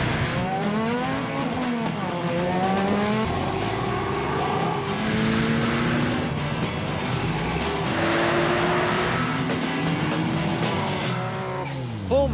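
Rally cars run at speed on a drying track, engines loud and close with repeated rising and falling revs, gear changes and possible tyre squeal across the whole stretch.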